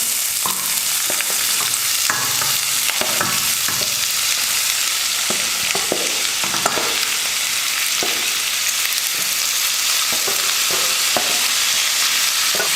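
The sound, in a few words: onion, tomato, curry leaves and egg frying in oil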